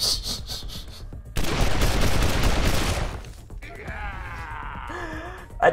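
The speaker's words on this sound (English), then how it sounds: "Shoot Ralphie!" Gunfire in the post-apocalyptic role-playing game Wasteland 2: a dense burst of shots fills a stretch of a second or two, followed by quieter game sounds and a short vocal sound.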